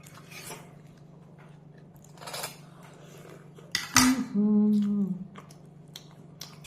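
Spoons and cutlery clink against dishes during a simple home lunch of dal, roti and bottle gourd. A few soft taps are followed by one sharp metallic clink and a brief ringing tone, with faint chewing in between.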